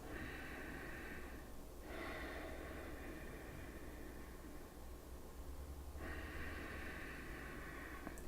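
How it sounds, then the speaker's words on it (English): Slow nasal breathing during a yoga session, long airy inhales and exhales that swell and fade with steady pauses, close and quiet over a low background hum. "Begin to take nice deep inhalations through the nose. Exhaling through the nose."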